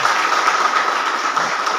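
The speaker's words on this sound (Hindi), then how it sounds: "अच्छा, एक बार जोरदार ताली होना चाहिए।" Applause from a seminar audience, a steady dense wash of many hands clapping together at even loudness for a short stretch with no voices over it.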